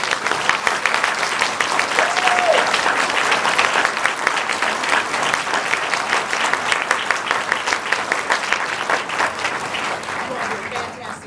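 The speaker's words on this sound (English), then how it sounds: "Let's give all of our candidates a round of applause." Sustained applause from a large audience at a candidate forum, dense steady clapping filling the whole stretch and tapering slightly near the end.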